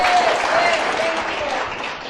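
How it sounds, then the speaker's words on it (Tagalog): Congregation applauding during an Ilocano-language church sermon, a steady, dense clapping from many hands that fills the room for the whole stretch and only slightly fades at the end. "Palakpak kanya na."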